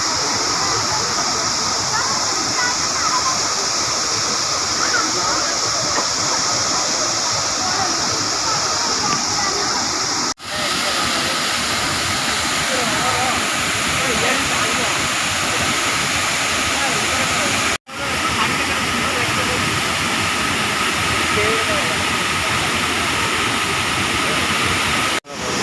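Water pours over the Gundicha Ghai waterfall near Keonjhar in a loud, continuous roar of rushing and splashing. It runs unbroken apart from a few abrupt cuts.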